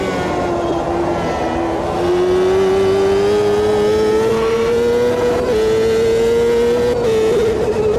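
Champ Car open-wheel race car engine in the AMS2 racing sim, a loud sustained drone whose pitch climbs steadily as it accelerates through the gears, with one brief dip from a shift, no voices.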